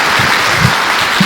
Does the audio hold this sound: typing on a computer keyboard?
no